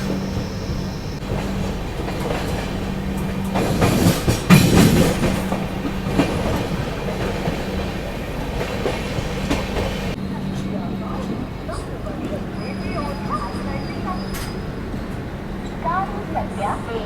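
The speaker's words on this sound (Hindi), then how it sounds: "ये थी पुणे दानापुर एक्सप्रेस।" The Pune Danapur Express rolls past a station platform with steady rumbling wheels and rhythmic rail clatter that fades after about ten seconds, with voices nearby throughout.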